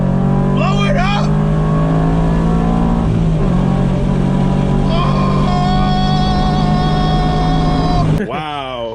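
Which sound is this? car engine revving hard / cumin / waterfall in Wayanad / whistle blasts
car engine revving hard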